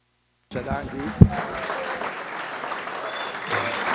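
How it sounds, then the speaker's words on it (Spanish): Audience applause for a dance group at a live event, a burst of clapping that starts abruptly and carries on steadily, with a sharp louder thump near the start and voices mixed in. "Un fuerte aplauso para el grupo aquí"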